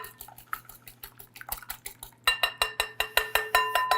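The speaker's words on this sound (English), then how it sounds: "Got my whisk. I'm just going to get this loosened up a little bit." A whisk beats steadily in a bowl while making Irish cream bread pudding, a fast run of bright metallic clicks and scrapes that grows louder and sharper partway through, close up with no talking.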